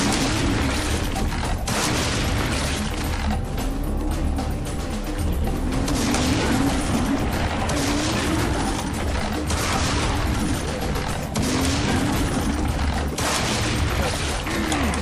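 Shotgun blasts and other weapon fire in the shooter game Serious Sam 3, packed into a loud, continuous barrage of booms and mechanical clatter with a voice talking over it throughout.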